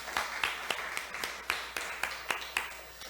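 A church congregation claps to welcome new visitors, a sparse, moderately faint round of applause with distinct individual claps at a steady rhythm.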